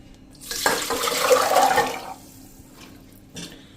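Soaked chickpeas and water pour into a pressure cooker in one close, rushing splash lasting about a second and a half, followed by quiet and a small brief knock.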